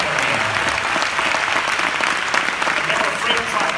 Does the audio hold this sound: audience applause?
yes